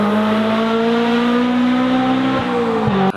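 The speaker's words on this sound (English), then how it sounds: "Or even some 4-cylinder sound." A 4-cylinder car engine drones loudly and steadily at a low, buzzy pitch, rising gently before two quick dips near the end as if shifting gears.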